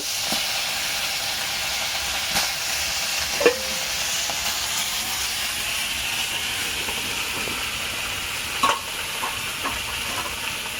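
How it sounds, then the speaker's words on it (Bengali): Catla fish frying in an overheated wok of hot oil, a steady broad sizzle and hiss running throughout with a few small pops and crackles, close and even in loudness. "তেল গরম হয়ে গেছে, এই যে মাছটা ভেজে নিলাম।"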